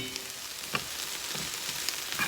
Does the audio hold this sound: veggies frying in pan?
yes